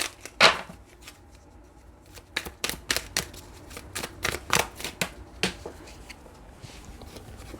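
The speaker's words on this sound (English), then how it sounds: "One more shuffle." Tarot cards being shuffled by hand, a series of quick crisp riffles and taps, close and clear, starting with one sharp flutter then repeating in an uneven rhythm.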